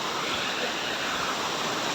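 Floodwater rushes through a small river after heavy rain, a steady broadband wash of churning water, close and continuous over two seconds with no voices.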